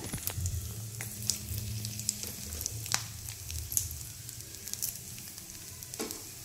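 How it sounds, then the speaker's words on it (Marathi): Grated coconut sizzles and fries in hot oil in a pan, a steady crackling hiss with occasional sharper pops and stirring scrapes, close and fairly quiet with no talking. "तेलामध्ये आपण आता हा नारळ घेतलेला आहे तो घालूया"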